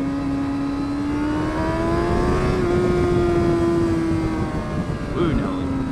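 A motorcycle being ridden, its engine holding a steady droning tone that swells slightly in pitch mid-ride, with heavy wind rush and a voice talking over it.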